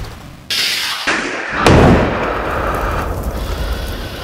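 RC tank firing an incendiary missile, a sudden loud launch blast followed by a sharper crack and a sustained roaring whoosh that trails off, close and dominant with no talk.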